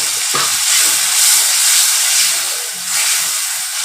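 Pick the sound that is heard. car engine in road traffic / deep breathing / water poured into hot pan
water poured into hot pan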